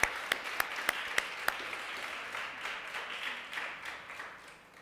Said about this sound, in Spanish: Por qué no le da un fuerte aplauso a Dios por Cristo